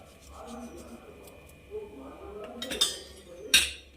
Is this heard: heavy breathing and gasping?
no